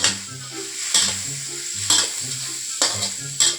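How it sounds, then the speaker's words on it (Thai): Onions stir-frying in a pan for shrimp with salted egg, a close sizzle broken by sharp, regular scrapes of the spatula roughly once a second. "หอมใหญ่นะครับลงไปผัดก่อน"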